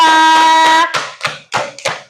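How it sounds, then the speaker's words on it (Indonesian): A few separate hand claps and taps from a primary school classroom after a student group's science presentation, following a brief sustained tone, sparse and close. "tepuk tangan untuk kelompok 2"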